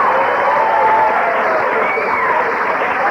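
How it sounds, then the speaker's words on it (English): An audience at a spoken-word talk applauds, a steady wash of clapping with some crowd murmur, moderately loud and continuous. "I want a round of applause for short-term memory loss."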